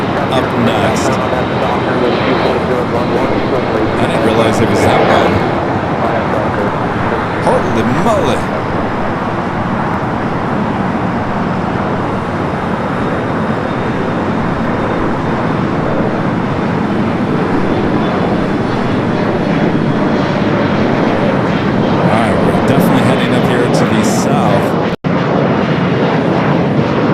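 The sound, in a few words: Boeing 787-10 Dreamliner in Stars and Stripes livery at LAX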